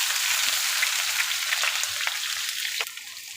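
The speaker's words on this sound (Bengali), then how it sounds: "কেটে রাখা পেঁয়াজগুলো দিয়ে দিচ্ছি" Chopped onions going into hot oil with chillies for a spicy dried fish (shutki) curry with brinjal and potato, a bright close sizzle that fades over a few seconds with light stirring scrapes, no talking.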